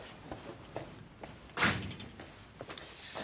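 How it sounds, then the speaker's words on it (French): An indoor door is pushed shut in a quiet room, giving one dull, fairly close thud midway through with faint room noise around it. "Ferme la porte."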